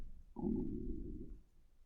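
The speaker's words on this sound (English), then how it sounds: "you hear my stomach rumble?" A low, drawn-out stomach rumble gurgles for over a second, close and fairly quiet, with a brief higher squeak at its start and no talking over it.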